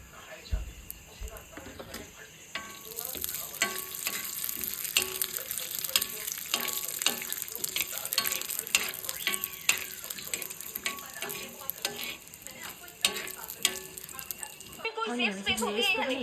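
Food stir-fried in a pan, a busy close sizzle with frequent metallic scrapes and clatter while a person talks faintly beneath, ending abruptly in quieter room sound.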